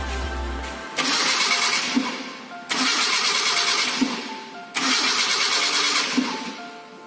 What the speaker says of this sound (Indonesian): Kemudian kita bisa menghidupkan kendaraannya.